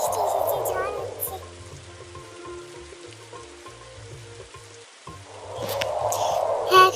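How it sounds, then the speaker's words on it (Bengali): Heavy storm rain as a cartoon sound effect: a dense, loud hiss of downpour fills the opening, drops back beneath tonal music through the middle, then surges again near the end. "খুব জোরে বৃষ্টি এসেছে, ঝড় হচ্ছে।"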